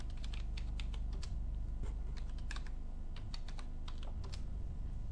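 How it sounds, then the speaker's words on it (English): Rapid, even typing on a computer keyboard as a passwd command is entered at a Linux terminal: a continuous stream of close, crisp key clicks over a low background rumble. "Now I'm going to set their passwords using the command pass wd Junaid.Qadir"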